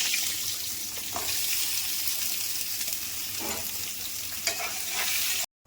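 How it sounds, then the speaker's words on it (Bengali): Pointed gourd (potol) pieces frying in oil in a pan, giving a steady close sizzle throughout with a few soft stirring knocks, ending abruptly. "পটলগুলো ভেজে নিচ্ছি।"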